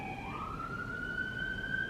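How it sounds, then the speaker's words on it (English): An emergency vehicle siren rises in a steady upward sweep over a constant background rumble, continuous and fairly clear, with no talk. "sirens."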